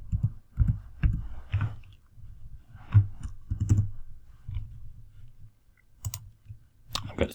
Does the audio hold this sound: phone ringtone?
no